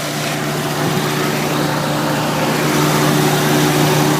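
An Onan generator engine runs steadily nearby, a continuous loud droning hum with a constant low tone and no pauses.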